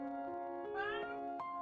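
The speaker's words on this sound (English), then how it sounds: "That's a cat." A cat meows softly nearby, one drawn-out rising call over a steady tonal background hum, fairly faint and with no talk.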